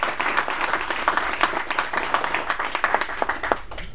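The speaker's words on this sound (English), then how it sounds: "let's give a big round of applause" A round of applause from a small audience at a talk, dense overlapping claps close by, sustained evenly for a few seconds and thinning at the end.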